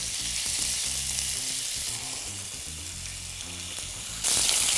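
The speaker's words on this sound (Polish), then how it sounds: "Przesmażamy z każdej strony na złoty kolor." Pieces of meat fry in hot olive oil, giving a steady close sizzle with occasional stirring clatter; partway through the crackle briefly swells louder.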